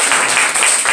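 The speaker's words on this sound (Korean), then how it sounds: "박수 한번 하겠습니다." Church congregation clapping together during a Sunday worship service, a dense, steady patter of many hands held at an even level through a short burst.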